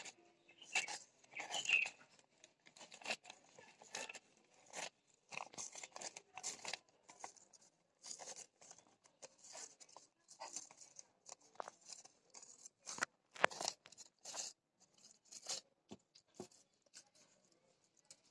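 Scissors snip through newspaper in round flower strips, with a steady run of close, crisp cuts and light paper rustling throughout.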